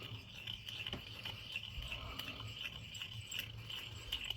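A deburring tool cleans the inside edge of a Spanish coin ring, making a faint, steady rubbing scrape with small repeated strokes throughout.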